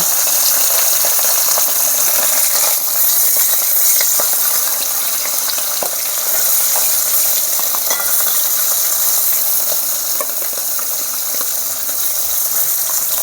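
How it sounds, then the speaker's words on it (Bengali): Fresh pond fish frying in hot oil in a kadai, giving a loud, dense, continuous sizzling hiss that stays close and unbroken throughout, with faint scattered pops and no voices. "এখন আমি এক করে মাছগুলো ভেজে নিচ্ছি"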